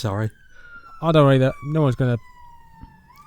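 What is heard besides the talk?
sirens in the background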